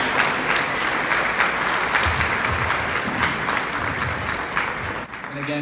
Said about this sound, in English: A huge round of applause for Sadhguru on stage and the members of the organization committee.